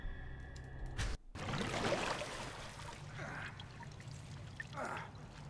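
In the video game The Evil Within, the character lands in water, giving a sharp splash followed by sloshing, trickling and churning water that fades into quieter bursts of movement.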